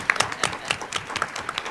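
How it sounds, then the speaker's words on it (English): Scattered applause from the audience at an Illinois Legislative Latino Caucus town hall meeting: sharp, uneven claps at moderate distance, sparse rather than a full ovation, with faint room murmur behind. "yes, applaud, please."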